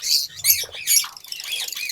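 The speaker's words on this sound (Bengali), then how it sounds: "এই হচ্ছে পাখিগুলা" Pet parrots squawk in a cage on a bird farm, harsh close calls repeating in quick bursts with brief gaps between them.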